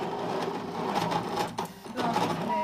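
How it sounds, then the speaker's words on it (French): A ScanNCut CM cutting machine slices heat-transfer flex, giving a steady mechanical whir with a whining motor tone that dips briefly mid-way before the blade carriage resumes, close and moderately loud with no talking. "donc elle va recommencer la découpe"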